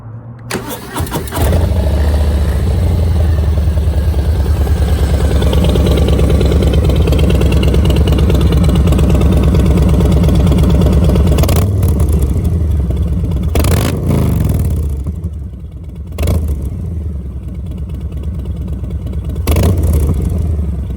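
A 2019 Harley-Davidson Street Bob motorcycle cranks and fires up, then settles into a loud, deep rumbling idle close by, with sharp throttle revs cutting through near the end.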